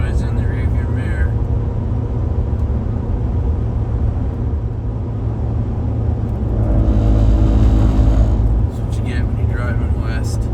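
Steady low engine rumble and road noise from inside a car driving west along a Wyoming highway, continuous and fairly loud throughout.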